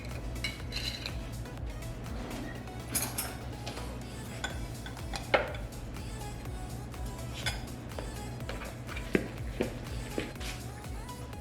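Tuna salad mixed with celery, red onions and relish, steady scraping and clinking of a utensil against a bowl with scattered louder taps over a constant low background hum.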